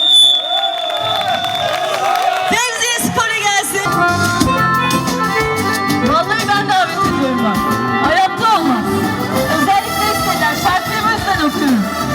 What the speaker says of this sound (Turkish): Alkışlar başkanıma gelsin